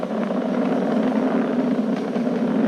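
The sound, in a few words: SpaceX Falcon 9 rocket engines during ascent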